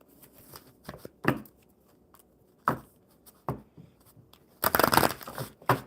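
A deck of cards shuffled on a quiet livestream, with crisp riffles and ruffling bursts spread across a few seconds and a louder, longer riffle near the end, close and distinct, with no talking.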